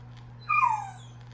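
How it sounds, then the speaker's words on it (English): A pet dog lets out a single brief, high whimper, close by and clear over a low steady hum, lasting under a second in an otherwise quiet room. "Here my dog go."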